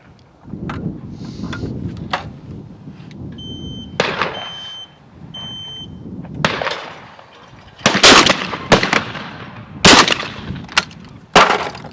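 A Webley & Scott XSP shotgun firing several sharp, loud outdoor reports, widely spaced at first and then in quicker succession, each blast with a short decaying tail and quiet gaps between.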